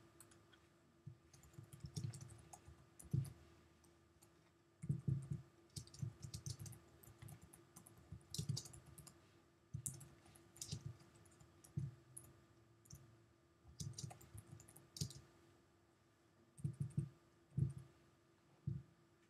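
Computer mouse and keyboard in use in Microsoft Word on a Mac while setting up a mail merge: scattered, soft, close clicks and taps in irregular clusters over a quiet background, with no voices.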